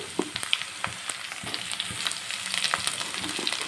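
Green chillies and chopped onions frying in a pan, a steady close sizzle with scattered pops and crackles and occasional stirring scrapes, no voices.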